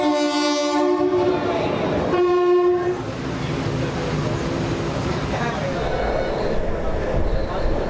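A new passenger train on the Karaikal–Peralam rail line sounds its horn in a couple of loud, close blasts, then its heavy rolling rumble continues steadily.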